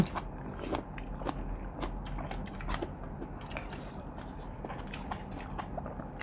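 Close eating of Isan food, ant-egg salad and termite-mushroom curry, with steady crunchy bites and wet chewing across the whole stretch and no talk.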